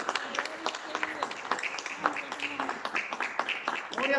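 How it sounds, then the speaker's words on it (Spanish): A church congregation applauds during a sermon, producing dense, sustained crowd clapping with voices mixed in at a steady, moderately loud level. "¿Cuánto le aplaudan al Señor?"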